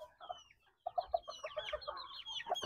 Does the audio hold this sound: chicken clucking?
yes